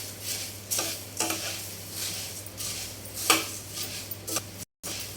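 Five cups of puffed rice are tossed with turmeric in a pan, with a spatula raking in repeated rhythmic scraping strokes over a light sizzle and one brief dropout near the end.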